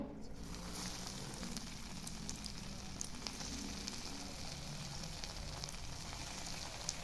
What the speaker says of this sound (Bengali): এবার কাটলেটগুলো ভেজে নেব।